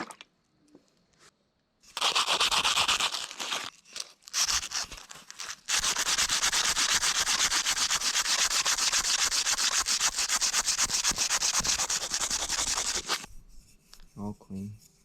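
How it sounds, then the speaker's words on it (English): Sandpaper rubs by hand at Loctite residue on the throttle of a 2000 Honda CBR929RR motorcycle, a close, harsh scratching in short strokes at first and then one long, steady stretch of vigorous sanding. "It's gotta be some kind of like Loctite for the throttle grip. So I literally gotta sandpaper it off."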